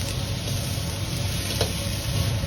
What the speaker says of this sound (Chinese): 油热后，先下入切好的瘦肉丁翻炒